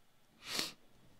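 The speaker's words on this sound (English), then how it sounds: "What are you sniffing so loud into the microphone for" A single loud, breathy sniff close to a microphone, a short hissy burst lasting about half a second and rising and falling quickly against near silence.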